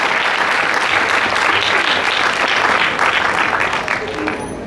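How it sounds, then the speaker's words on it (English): Big audience applause for the mothers and ladies at a dance event, steady and loud throughout, mixed with crowd noise and voices, tapering slightly at the end. "Can we please give all the mothers and all the beautiful ladies a big round of applause?"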